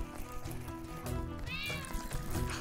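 A stray cat meows in the tavern-management game Crossroads Inn, one drawn-out meow standing clearly over a dense, steady bed of game music and ambience.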